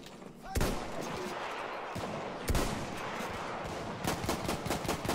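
Repeated gunfire in the Battlefield 1 multiplayer game, with sharp loud shots at intervals over a dense, noisy battle backdrop and several quicker shots clustered near the end.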